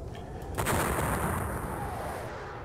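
Napoleonic-era artillery fire from a John Tiller wargame at the Battle of Eylau: a loud, booming cannon blast with a long rumbling tail that fades slowly, heard alone.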